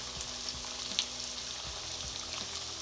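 Food sizzles in hot oil in a pan while Caribbean dishes are cooked, with a dense, steady crackling hiss and a few brief pops and soft knocks, close by and uninterrupted.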